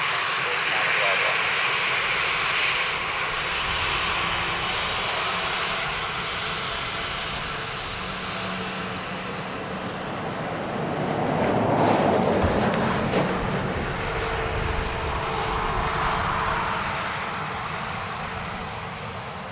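A Ryanair jet arriving at Dublin Airport on its flight from Lanzarote gives a steady, broad engine roar that swells around the middle as it passes close by, then eases off, with radio chatter running underneath.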